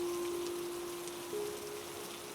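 Rain falls in a horror cartoon as a soft, continuous hiss of drops, with a faint sustained tone running underneath and no speech.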